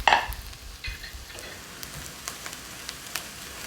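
Chopped mushrooms tumble into caramelized onions in hot oil with a sharp clattering burst, then a soft sizzle continues under scattered light spatters and occasional stirring scrapes.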